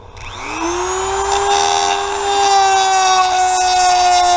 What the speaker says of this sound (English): So I'm just going to grind it down a little more.